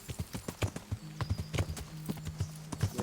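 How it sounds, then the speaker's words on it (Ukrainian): Horse hooves clip-clop at a steady trotting rhythm in the medieval video game Kingdom Come Deliverance, close and clear, with a low sustained hum running beneath the repeated hoofbeats. "Коняка."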